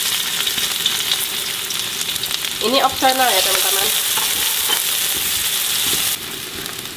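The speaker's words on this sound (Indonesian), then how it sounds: "Pertama kita goreng dulu bawang putih dan bawang merah." Garlic and shallots fry in an old, long-used wok with a steady, loud sizzle that runs throughout, while a voice speaks briefly over it.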